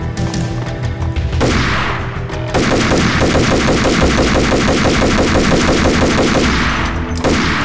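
Sustained rapid automatic gunfire rattles loudly in a Max Payne shootout, with a dense machine-gun burst after a brief pause and sharp booming shots throughout.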